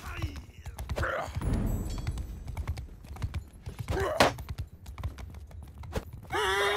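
Horse hooves clip-clop in a Mount and Blade battle, steady galloping steps with a brief whinny, under loud excited talk from a player and scattered game thumps.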